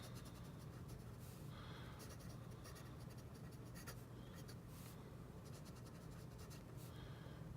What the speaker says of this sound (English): very nice fountain pen. I'll show you how it writes.